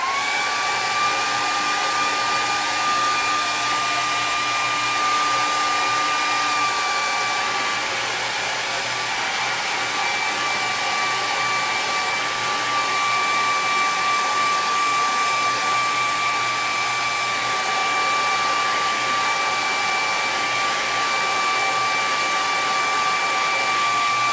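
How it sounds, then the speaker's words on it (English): A hair dryer blows steadily and loudly throughout, drying paint on a painting, a constant whooshing hum with a high whine and no pauses. "I'm actually going to use the hairdryer"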